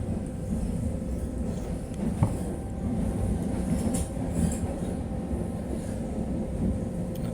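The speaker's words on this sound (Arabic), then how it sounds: "المترو تحتي والمترو الفوق" Madrid metro train at Príncipe Pío station, a steady rumbling roar of the moving train with light rattles and a few clicks, continuous and fairly close, with no voices.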